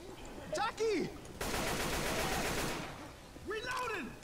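Sniper rifle gunfire in the Left 4 Dead zombie game, a dense burst of rapid shots in the middle, with excited talk before and after.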